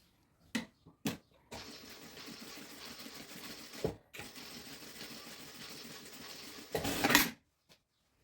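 A sewing machine stitching men's shalwar trousers runs in a steady, rapid mechanical rattle for several seconds, with a few short clicks before it starts and a louder burst near the end.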